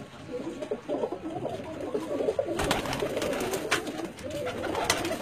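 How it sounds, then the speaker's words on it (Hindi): Pigeons belonging to a fancier in Jalalpur Bhattian coo in a steady, overlapping murmur throughout, with some bird calls and fluttering sounds rising partway through; no one speaks. "मियाँ फैसल साहब होरां दे कबूतर ने जी जलालपुर पटियां तो जी"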